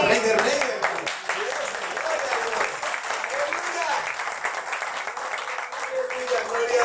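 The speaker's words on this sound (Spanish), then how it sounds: "Dame un aplauso al Rey de Reyes." Applause from a church congregation during a Spanish-language evangelical service, a steady wash of clapping that carries on throughout at moderate loudness, with voices faintly mixed in.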